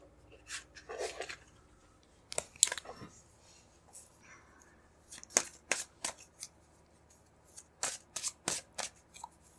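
Tarot cards being shuffled and drawn: soft riffling bursts and crisp flicks and slaps of card stock, in irregular clusters close by against a quiet room.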